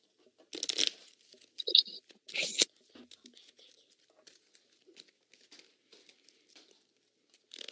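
Cards from the Forbidden Island board game are shuffled up close in quick, papery riffling bursts, quiet and separated by short pauses, with faint talk nearby.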